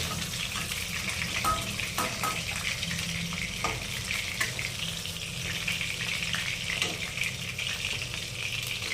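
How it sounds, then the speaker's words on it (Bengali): Fish pieces fry in hot oil for a Bengali fish curry, a steady close sizzle with crackling pops and occasional stirring scrapes, continuous and without voices throughout. "এবার মাছগুলো হালকা লাল করে মামনি ভেজে নেবে"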